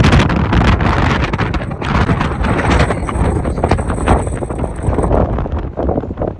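Strong gusting wind roars loudly across the microphone, buffeting it continuously with heavy rumbling bursts.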